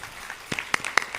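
An audience at a Hindi religious discourse starts clapping: a few sharp, scattered hand claps that grow slightly denser toward the end of the short moment.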